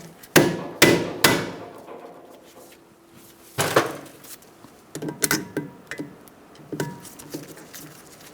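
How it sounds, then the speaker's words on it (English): An impact driver with a Phillips bit backs out the brake rotor screws on a 2002-2006 Honda CR-V rear hub, giving several loud, sharp bursts of hammering impacts close by, separated by quieter pauses and softer clanks. "You're going to use an impact driver with a Phillips head and remove your screws for your rotor."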